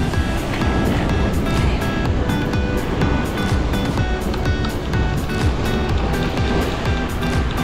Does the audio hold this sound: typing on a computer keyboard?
no